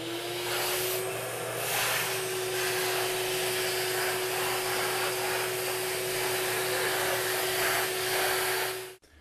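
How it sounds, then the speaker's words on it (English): A shop vacuum sucks out old grout, running steadily and loudly throughout with a constant motor whine and rushing airflow, then cuts off abruptly at the end. "now we just got to vacuum out that old grout."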